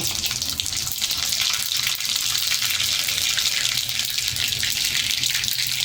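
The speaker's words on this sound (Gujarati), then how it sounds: "અડધી ચમચી આખું જીરું નાખશો" Whole cumin seeds hitting hot oil already holding mustard seeds on a low gas flame, a loud, even, continuous sizzle heard up close for several seconds.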